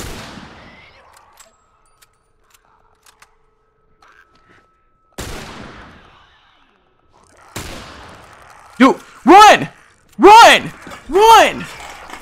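In-game gunfire in The Last of Us Remastered on PS5, two sharp isolated shots separated by silence, followed by rising yelps and shouting from the player.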